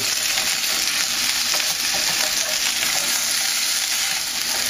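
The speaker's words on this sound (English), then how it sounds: "Come over here and just flip them around a little bit, make sure they're not sticking." Potatoes fry in a pan with a loud, steady close sizzle, a few soft scraping stirs from being flipped breaking through the hiss.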